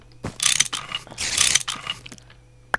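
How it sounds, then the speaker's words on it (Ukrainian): In Minecraft, an electric wrench dismantles a machine: two close, loud bursts of ratcheting, whirring mechanical clatter, each separated by brief pauses and followed by a few sharp clicks, with no voices. "Це електричний гайчний ключ."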